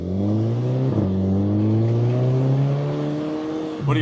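A Volkswagen Jetta GLI's exhaust revs steadily and loudly close by, its engine note climbing smoothly with a brief dip near the start and another at the end.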